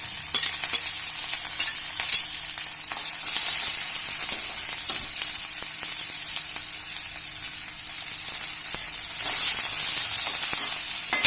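Garlic, ginger and red chillies sizzle steadily in hot oil for a Kerala-style white lime pickle, a continuous close frying hiss with occasional stirring scrapes and no talk.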